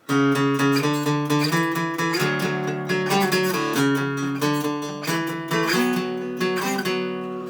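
Acoustic guitar picked in a steady run, notes repeating in groups and shifting through a chord pattern, clear and close with no voice.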